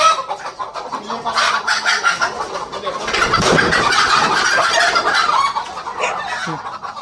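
Loud, steady clucking and squawking from many chickens fills a poultry shed on a farm, the flock close by and continuous throughout.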